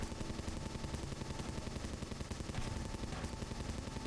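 Rapid, unbroken automatic gunfire rattles on for several seconds in the video game Will: A Wonderful World, loud and dense with a steady rhythm and no voices.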